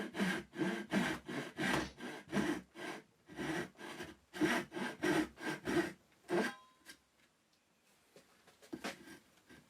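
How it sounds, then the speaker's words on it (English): A hand saw cuts into reclaimed hardwood in quick, even back-and-forth strokes, close and fairly quiet, about a dozen rasping passes before the sawing slows and fades into a few scattered scrapes. "I then saw on the waist side of the line down to the depth mark."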